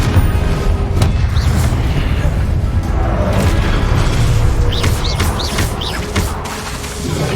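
Confringo explosion spell in Hogwarts Legacy on hard mode, a string of heavy booming blasts with crackling debris layered over a continuous rumbling battle din, loud and close.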